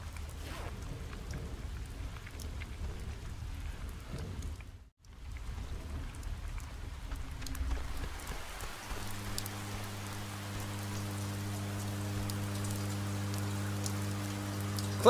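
A rainstorm pours in the video game Oxenfree, a steady dense hiss of rain with a low rumble, then a sustained droning hum rises beneath it in the second half.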